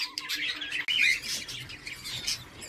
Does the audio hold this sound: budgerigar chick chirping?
yes